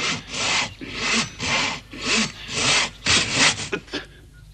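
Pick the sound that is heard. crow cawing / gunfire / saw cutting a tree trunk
saw cutting a tree trunk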